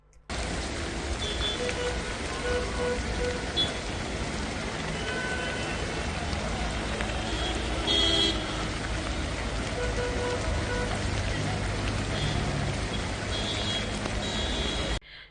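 Heavy rain pours steadily in Ahmedabad, a dense continuous hiss of drops on surfaces holding an even, loud level throughout, with faint low traffic rumble beneath and no voices.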